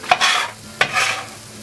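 Chopped onions dropped into a hot pan for Filipino garlic fried rice, two loud sizzling bursts as they are stirred, each fading to a softer crackle, close and with no talking.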